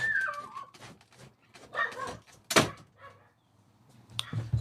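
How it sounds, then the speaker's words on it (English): A dog barks and whimpers indoors in uneven short bursts at moderate distance, with a sharp thunk like a door partway through. "I don't know who he's barking at"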